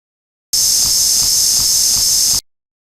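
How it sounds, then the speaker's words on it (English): A steady, bright hiss of emergency oxygen flowing from a Boeing 747 freighter crew oxygen mask, close and constant for about two seconds, then cutting off abruptly. "The sound of oxygen flowing"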